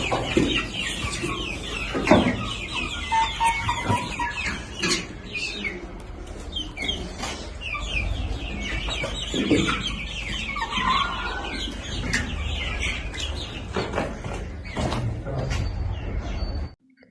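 Baladi chickens on a poultry farm cluck and coo continuously at close range, a dense flock chorus with scattered louder squawks and no talk.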